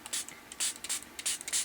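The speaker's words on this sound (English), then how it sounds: "spritz them with water" A plastic spray bottle spritzes water onto the edges of paper flowers in quick, crisp bursts, about six or seven hissing sprays in an uneven rhythm, close and fairly quiet with no talking.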